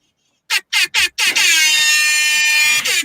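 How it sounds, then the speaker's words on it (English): An air horn gives three short sharp blasts followed by one long sustained loud blast, close and alone, as a welcome for a guest on a show. "And the air horns, that's made my day"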